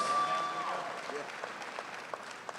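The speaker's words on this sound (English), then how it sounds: "Give yourself a round of applause, please." Audience applause at the RAMMYS 2022 restaurant awards ceremony, a moderately distant wash of clapping from a crowd that tapers slightly over a few seconds.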